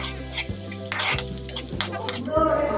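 Onion and garlic sautéing in a pan until golden brown, with a continuous sizzle under rhythmic scraping and clinking of a spatula against the pan roughly twice a second, close and loud with no talking.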